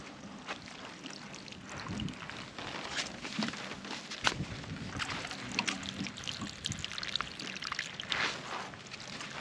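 Water poured from a container into a planting hole in garden soil to flood it, an uneven close splashing and gurgling trickle with soft shuffling and handling noises, no talking.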